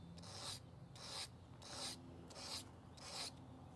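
A metal file strokes back and forth over the tip of a lock pick, five or six evenly spaced rasping strokes in steady rhythm, close and quiet with nothing else heard.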